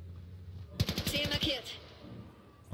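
A short, rapid burst of automatic gunfire in the shooter Crossfire: Legion, a quick rattling string of shots rising out of a quiet game background and then fading.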